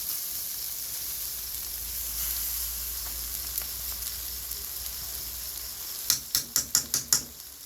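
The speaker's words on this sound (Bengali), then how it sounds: "এখানে গাজরটা ভাজি করে নিচ্ছি ফ্রাইড রাইসের জন্য" Steady soft sizzle of carrots frying in a pan for fried rice, with a quick run of sharp clicks or taps near the end.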